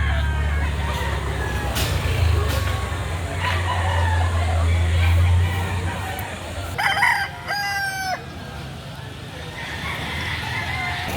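Roosters crow at a chicken market in Lipa City, Batangas, two clear cock-a-doodle-doo calls rising above a steady low rumble of market noise and nearby vehicles, with people talking in the background.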